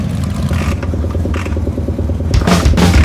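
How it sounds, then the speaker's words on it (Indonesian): A motorcycle engine runs steadily at close range, with a louder rev building near the end and some mechanical clatter, no voices. "motor hidup aman, gereng"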